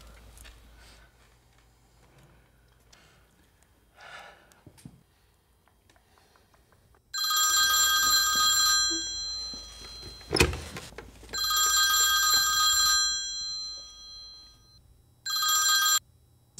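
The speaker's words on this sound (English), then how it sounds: "We'll be getting a phone call shortly." A telephone rings in a comedy sketch, three long bright ringing bursts followed by a shorter fourth, loud and close, with a sharp thump between the first two rings and no talk.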